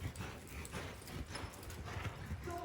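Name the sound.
horse hooves trotting on a circle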